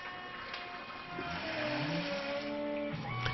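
Tormach PCNC 1100 RapidTurn lathe cutting metal and throwing chips, a steady dense machining whir with shifting tonal whines throughout.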